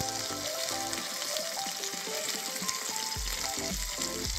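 Diced capsicum, tomato and onion sizzling in a pan, a steady bright crackle of frying with occasional scraping stirs and clinks underneath, close and continuous.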